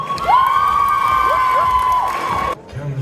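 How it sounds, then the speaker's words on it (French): Convention crowd at the Japanantes 2024 cosplay parade and contest lets out a long, sustained high whoop over a low murmur of crowd noise, cutting off abruptly near the end. "Allez, applaudissez-les bien fort."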